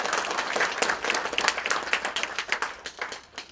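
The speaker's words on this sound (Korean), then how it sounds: "다시 한번 박수 부탁드립니다" An audience at a 5.18 Gwangju Democratic Uprising memorial ceremony breaks into sustained, dense applause, many hands clapping together in a lively, even roar that continues throughout.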